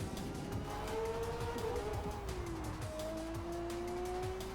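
A racing car in a video game speeds down the Fujimi Kaido mountain pass at around 200 km/h, its engine a loud, steady high-revving whine with rising pitch, and tires squealing as it drifts through a corner.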